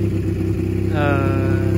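The rebuilt engine of a Panhard Dyna X car idles with an uneven, misfiring putter, a close, loud and steady low-pitched pulsing chug.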